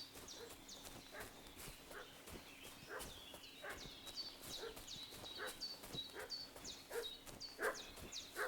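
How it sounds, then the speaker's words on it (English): A dog barking repeatedly in the medieval Kingdom Come Deliverance video game, a steady run of sharp barks over a constant outdoor ambience, without talk. "What's that dog making such a fuss about?"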